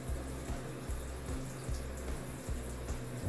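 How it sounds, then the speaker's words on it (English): Water running steadily through a bathroom tub and shower plumbing after the house supply is turned back on, following a hacksawed tub spout replaced with a SharkBite cap; a continuous rushing hiss with a faint low pulsing underneath, no talking. "Go ahead and turn the water back on in the house, check it for any leaks."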